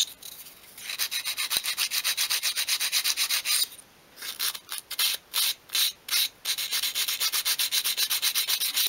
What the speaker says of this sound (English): I'm going to sand the edges of the handles.